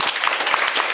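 A quick, dense burst of audience clapping fills a high school youth forum hall for about a second.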